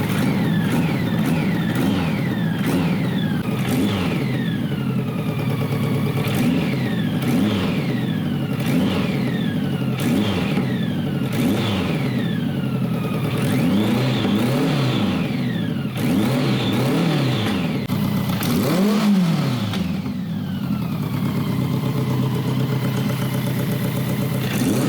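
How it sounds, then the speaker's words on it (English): A 1986 BMW K100 cafe racer motorcycle engine is blipped again and again from idle, with sharp throttle rises that fall quickly back. The engine is loud and close, with repeated rhythmic revs and no talking. "And listen to the throttle response."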